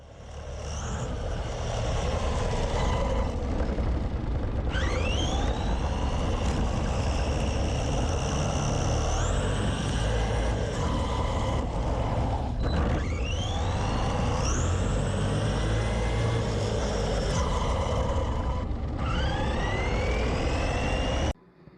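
Arrma Vorteks RC truck running at full throttle, a loud continuous high-pitched motor whine with rising and falling pitch sweeps as it speeds away and turns back, no talk.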